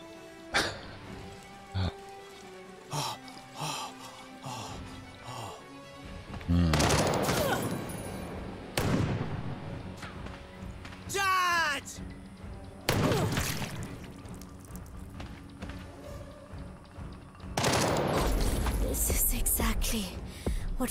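Enemy gunfire in the tactical video game Jagged Alliance 3 cracks out in several loud bursts and volleys. Shorter single shots sit between them, and a player talks and reacts over the fighting.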